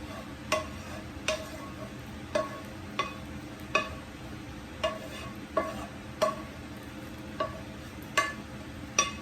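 Teriyaki sauce with ginger and fresh garlic stirred in a pan, a utensil tapping and scraping in a steady rhythm of about a dozen distinct clicks over a soft, continuous sizzle, close and moderately quiet.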